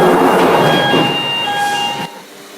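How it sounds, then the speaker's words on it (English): Subway train doors opening in the Metro Simulator 4 video game, a loud hissing, whirring slide with sustained tonal whine that cuts off abruptly, leaving a quieter rumble. "let's open the doors"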